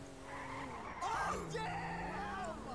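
A car in Grand Theft Auto V drives with an engine hum, then its tires squeal and skid in short bursts partway through, with moderate level and no talk over it.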